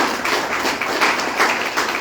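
An audience claps at a business awards presentation, a fairly loud, dense patter of applause that swells and eases in rough pulses, with no speech over it.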